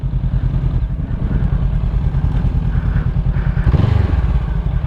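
A motorcycle engine idles close by with a deep, throbbing, rhythmic putter and a brief rise in revs near the end.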